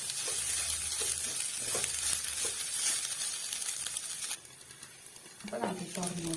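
Rice for a kids' lunch box stir-fries in a pan, with a steady sizzle and regular scraping strokes from stirring, then a quieter stretch ending in a few louder clatters of the utensil.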